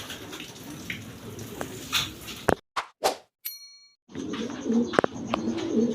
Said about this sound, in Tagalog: Ayan mga kalapatid.